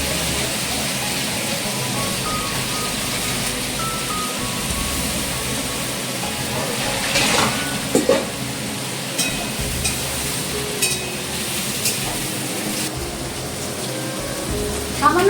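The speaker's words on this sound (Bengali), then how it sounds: "মাছ ভাজার তেলের মধ্যেই সবজিগুলোকে ছেড়ে দিয়েছি" Vegetables sizzling in leftover fish-frying oil, a steady hiss close by with a few soft clinks of stirring.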